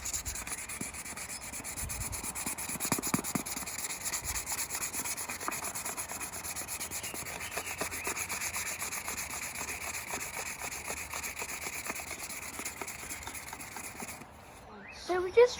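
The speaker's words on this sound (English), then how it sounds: "we're just gonna use some sandpaper to just make it flatter" Sandpaper rubs continuously against a temporary badge for the grille of a Rover P4 80, a steady close scratchy scraping that lasts almost the whole clip before it briefly pauses.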